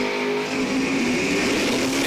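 Door-class drag race cars at Numidia Dragway during the Spring 150 event, their engines a loud, steady, continuous roar that holds for about two seconds with no clear gaps.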